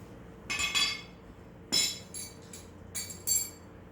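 Steel bolts and nuts for a rimfire target mover clink against one another in a few separate bursts, a sharp metallic rattle near 0.5, 1.7, 2.5, 3.0 and 3.3 seconds, close and fairly quiet with no voice.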